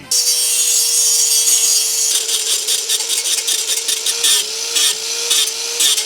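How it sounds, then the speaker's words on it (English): Brake dust shield being cut and wheel hub ground on a Honda Fit, with a loud, steady high-pitched power-tool whine and gritty rasping bursts as the tool bites the metal. "What I decided to do is cut the brake dust shield and grind down the wheel hub just slightly."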